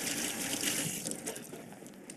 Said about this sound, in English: just get my hands washed off here